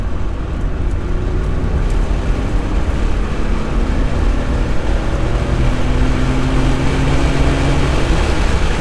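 A 1983 Porsche 911 SC accelerates on the road, heard from inside as a loud, steady engine drone with a slowly climbing tone under dense road and wind rush.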